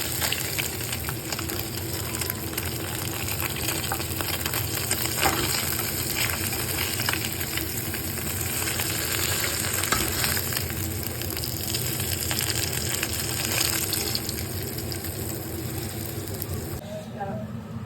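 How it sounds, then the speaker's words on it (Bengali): Fish sizzling in hot oil in a wok, frying before going into a mustard-paste curry; a dense, even crackle holds steadily throughout. "মাছগুলো আমার সব ভাজা হয়ে গেছে।"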